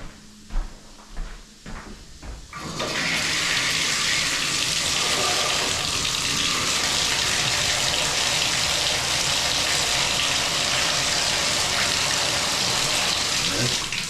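After a few knocks and clunks, water gushes from a household faucet in a steady, loud rush that continues without a break.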